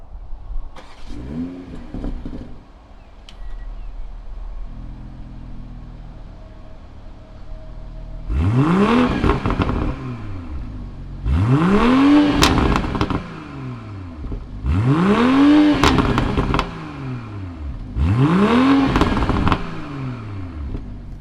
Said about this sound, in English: Let's go ahead and fire up this BMW 3 Series.